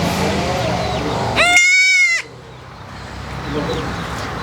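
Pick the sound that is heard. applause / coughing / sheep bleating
sheep bleating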